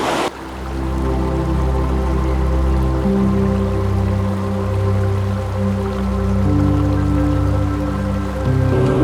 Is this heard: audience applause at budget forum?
no